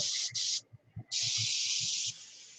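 Spray gun laying the first coat of paint on an airframe: a close, steady hissing spray in two short bursts, then a long continuous pass, over a faint low rumble.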